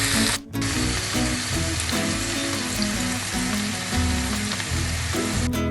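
Chicken pieces sizzle steadily in a hot pan for a sizzler dish, a dense continuous crackle with one brief dip early on, close and loud with no talking.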